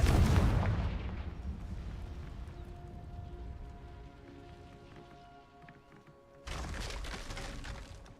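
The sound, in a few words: Confringo fire blast spell, video game Hogwarts Legacy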